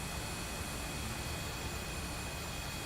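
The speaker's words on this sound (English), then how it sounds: "I almost thought that was a fighter jet coming up to my S3 over here." An aircraft passes by in the naval warfare video game Sea Power, a steady broad engine roar with a thin high whine held at a constant level throughout.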